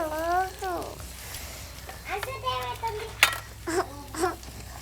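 Curry leaves, green chillies and ginger fry in a pan with a soft sizzle beneath a woman's speech and a voice, with a few light utensil clinks.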